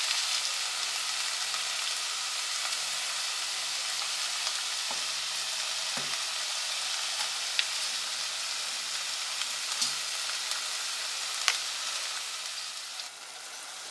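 Tomatoes sautéing in a pan for prawn gravy, giving a steady, continuous close sizzle with a few faint utensil taps, no talking.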